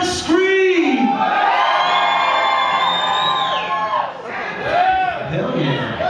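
A live concert crowd at a show screams and cheers loudly and continuously, with whoops and yells rising and falling over about six seconds.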